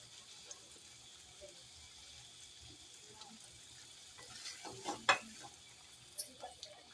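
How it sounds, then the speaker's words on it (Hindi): Masala fries with eggs in a pan for egg white korma, a soft low sizzle under gentle stirring scrapes, with a few louder clinks and splashes of the spoon toward the end, close and quiet. "चार से 5 मिनट हम अंडों के साथ मसालों को भून लेंगे अच्छी तरह से"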